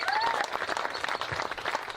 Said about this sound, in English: let's have a massive round of applause to show our love and support